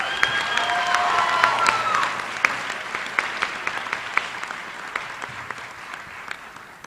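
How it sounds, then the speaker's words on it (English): An audience at a school awards ceremony gives a steady, fairly loud round of dense clapping for a JROTC program, with a faint tone at the start and the applause thinning slightly toward the end. "Please join me in giving another round of applause to Hannah and the JROTC program."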